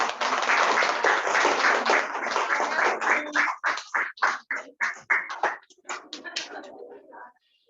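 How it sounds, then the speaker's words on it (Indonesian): Audience clapping for a presenter in a class session on brand activation strategy, dense at first and then thinning into separate uneven claps that fade out. "itu tepuk tangan buat Wida"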